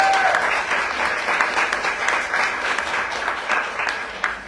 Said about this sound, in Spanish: Un aplauso para Marquesa Teco